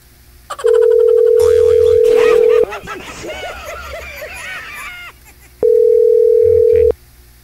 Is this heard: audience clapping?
no